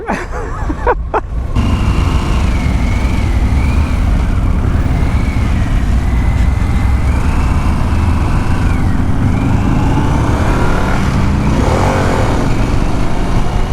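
A 2023 Harley-Davidson Pan America motorcycle engine runs loud and close while riding, a constant rumble mixed with strong wind noise. A brief handling clatter comes at the start.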